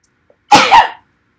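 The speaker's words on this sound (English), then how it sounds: "I swear I'm going to sneeze." A single close, sharp human sneeze bursts out alone for about half a second, with silence before and after.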